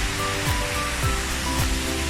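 Steady broadband rush of the Mae Wei waterfall in the hills near Tha Song Yang, a continuous roar of falling water heard close and alone, with no talk.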